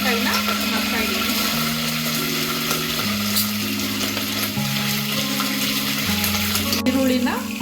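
Curry leaves and green chillies go into hot oil for tempering, giving a steady crackling sizzle, while an unrelated melody with stepped tones plays loudly over it throughout.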